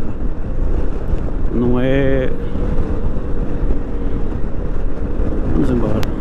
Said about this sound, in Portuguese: Este motor é uma delícia também.